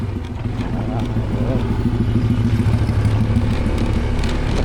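A motorcycle with no casing idles and runs near rice fields by a river, its mid-pitched engine a steady, fairly loud drone with a rhythmic chug, while people talk over it.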